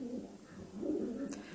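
A large Lahori (Shiraji) pigeon gives a close, soft, low rolling coo, a couple of throaty murmuring phrases over a quiet background.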